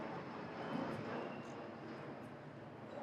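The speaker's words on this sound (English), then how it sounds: "We'll let the planes fly by." Airplanes passing overhead at an outdoor rally in Wilmington, North Carolina, a steady broadband engine roar that holds loud and even throughout with no talk over it.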